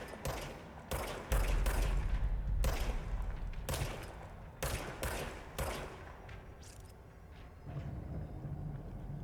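Gunfire from a gun in the video game Control, heard as several loud, close bursts of rapid shots with short pauses between them, and no talking.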